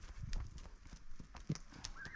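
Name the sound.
horse trotting in a round pen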